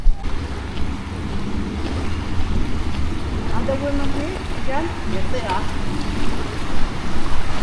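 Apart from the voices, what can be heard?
rushing river water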